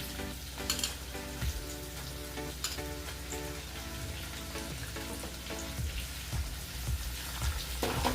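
Onion and curry leaves sautéing in hot oil in a pan, a dense, loud crackling sizzle with spattering pops and occasional stirring scrapes, close and continuous with no talking.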